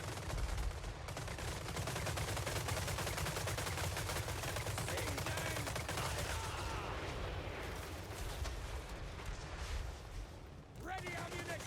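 Rapid, sustained machine-gun fire in a Total War Warhammer III battle, a dense rattling barrage mixed with battle noise and voices, fading slightly toward the end.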